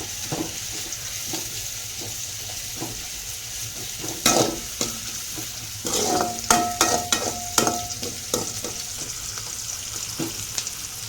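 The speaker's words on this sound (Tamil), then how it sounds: "வெங்காயம் நல்லா கோல்டன் ஃப்ரை வர வரைக்குமே நம்ம வதக்கிக்கலாம்." Onions frying in a pan until golden, a steady close sizzle with scraping stirring strokes and utensil clinks growing busier midway, no talking.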